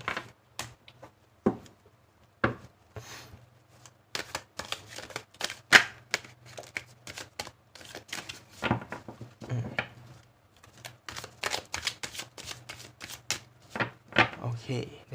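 Tarot cards are shuffled and handled by hand in irregular soft riffling and tapping bursts over about fifteen seconds, close and fairly quiet, with a person speaking between and over the card sounds.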